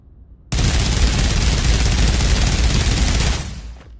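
Heavy WWII weapon in the Pavlov VR game fires one long continuous burst, loud and close, before cutting off and fading away.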